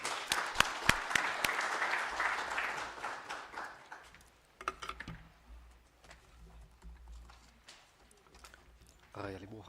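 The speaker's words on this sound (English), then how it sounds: "Can we please give him a round of applause?" Audience applause at a project launch ceremony: dense, loud clapping for about four seconds, then thinning into scattered claps and room murmur.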